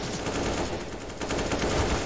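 Rapid gunfire from the Counter-Strike Inferno map during a professional esports match, a dense, continuous crackle of shots lasting about two seconds with no speech.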